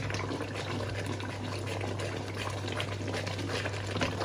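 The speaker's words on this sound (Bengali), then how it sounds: "দেখেন কি অবস্থা এটা প্রচন্ড ছেটাছেটি করে পেঁয়াজ" Onions frying in a pan, spattering hard under a lid, as a dense, steady crackling hiss with a low constant hum underneath and no speech.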